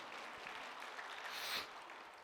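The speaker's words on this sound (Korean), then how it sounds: "박수 한번 주시죠." A church congregation applauds during a Wednesday morning worship service, a soft steady wash of many hands clapping at a distance, swelling briefly before easing off.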